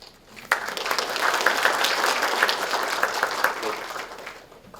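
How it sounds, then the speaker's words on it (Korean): A seated forum audience gives a big round of applause to welcome a guest at the 6th KOGAS Forum on natural gas and energy transition: thick, continuous clapping rises sharply, stays level for several seconds, then thins out. "자리에서 일어나셔서 인사해주시면 큰 박수로 환영해주시길 바랍니다."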